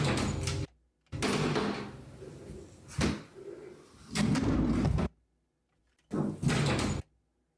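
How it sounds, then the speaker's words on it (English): A kitchen door shuts in a quiet house, heard as several loud, bursty thumps and knocks separated by near silence. "I think what happened here was the kitchen door shut."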